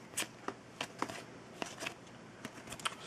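Walking Dead trading cards flipped quickly one after another, giving soft, faint papery flicks and snaps in an irregular run, close and quiet, with no voice.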